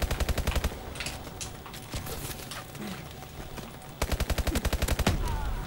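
Rapid automatic gunfire from a gun in the video game Clothespin Gun Game comes in loud, tightly spaced bursts at the start and again near the end. Softer scattered game noise fills the gap between the bursts.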